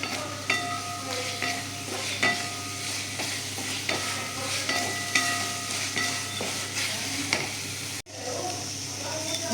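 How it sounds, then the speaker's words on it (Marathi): Masala fried with chilli powder in a pan, a continuous loud sizzle under rhythmic spoon scrapes and clinks against the metal as it is stirred, briefly cut off near the end before resuming. "हा असा परतून घेऊया."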